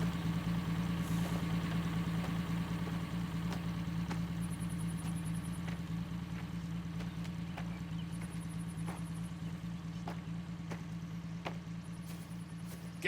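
A car engine idles steadily in the Mafia video game, a low continuous rumble with faint intermittent high chirps and small clicks over it, with no talking.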